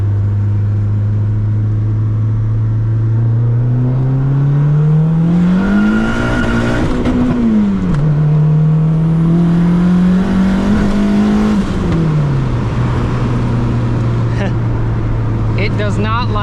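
A car with a built motor and budget turbo kit idling loudly up close, the engine note rising and falling twice through revs before settling back to a steady idle.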